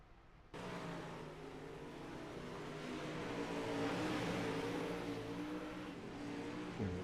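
Engines roar steadily in the distance, a continuous drone of race cars circling a track during a 100-lap race, with rising and falling revs.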